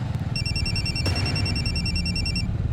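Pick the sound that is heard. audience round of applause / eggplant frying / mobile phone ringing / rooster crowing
mobile phone ringing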